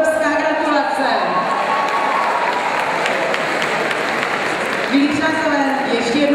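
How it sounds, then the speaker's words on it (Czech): At a dance-class ball, an audience applauds the dance finalists with continuous dense clapping that stays loud throughout, while a voice talks over it. "ještě jednou tleskáme všem finalistům"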